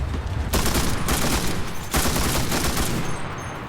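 Sustained machine gun fire roars in the WW2 shooter Enlisted, loud and close, with a few short pauses between long continuous bursts.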